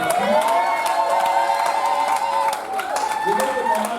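A church congregation cheers and applauds in worship, a dense continuous roar of voices and clapping with whoops, while sustained tones, likely music, run underneath throughout.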